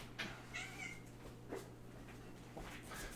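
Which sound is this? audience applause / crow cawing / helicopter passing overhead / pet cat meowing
pet cat meowing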